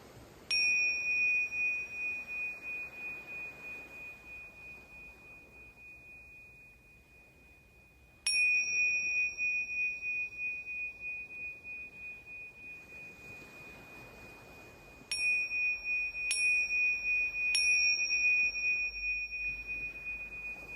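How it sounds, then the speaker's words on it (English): A meditation bell rings with a pure, sustained tone that slowly fades. It is struck once, then again after a long pause, then three times in quicker succession, each ring decaying gently into near silence. "Returning home to yourself, to the sound of the bell, following the sound all the way to the end."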